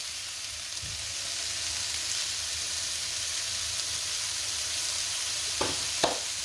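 Vegan sweet potato curry sizzles steadily in a pan, a constant close frying hiss with a couple of sharp scrapes of stirring near the end.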